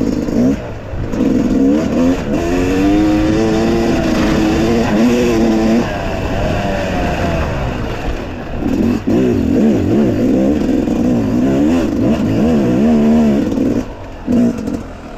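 A Mitsubishi Delica engine revs and labors on a mountain trail, rising and falling in pitch as it climbs and passes close by, with a mid-clip lull before it surges again.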